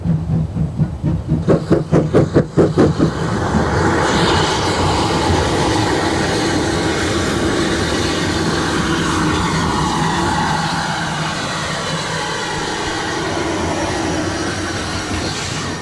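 A preserved British mainline steam locomotive gets under way close by, opening with rapid rhythmic exhaust chuffs, then settling into a steady loud rumble of rolling wheels, hiss and rail clatter that continues for the rest of the stretch.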